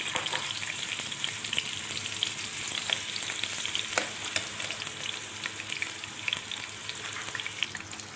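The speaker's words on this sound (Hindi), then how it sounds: "ये इसके साथ ही ये मैं गोश्त डाल दूँ" Meat for aloo gosht hits hot ghee in a cooking pot and fries with a steady, close, crackling sizzle that holds at an even level, with occasional clinks and stirring scrapes.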